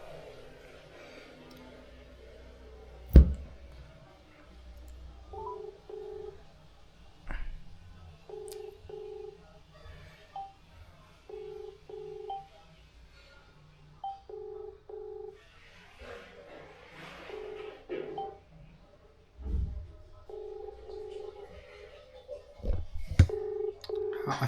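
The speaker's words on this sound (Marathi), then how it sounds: "पण जरा फोन लावतो" An outgoing phone call to a friend rings back in repeated paired beeps, regular and evenly spaced, with a few clicks and handling thumps and some quiet background sound between rings.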